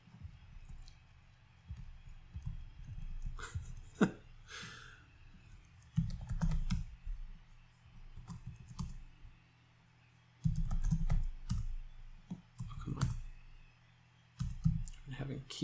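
Computer keyboard keys clatter and click in uneven bursts while a game of EverQuest on Project 1999 Green is played, with brief spoken remarks between the bursts.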